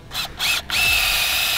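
Power drill whirring as it drives screws into a motorcycle tire for flat-tire stunt riding, two short bursts followed by a long steady high-pitched run, close and loud.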